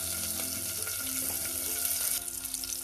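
Green chilies and crushed garlic sizzle in hot oil along with peppercorns, mustard seeds and cumin seeds, giving a loud, continuous frying hiss with faint crackles.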